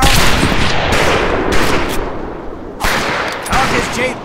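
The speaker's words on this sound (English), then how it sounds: "Talk is cheap, Private, but that's some pretty fair shooting." Rifle fire in the Medal of Honor video game: several loud, close shots in quick succession, each a sharp burst that rings out before the next.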